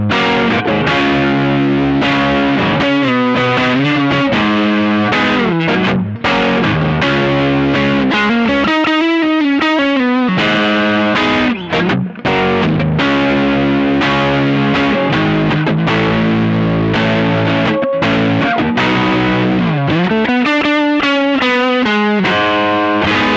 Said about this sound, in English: I very rarely enjoy the neck pickup, like traditional Marshall sound on any guitar, but that's gorgeous.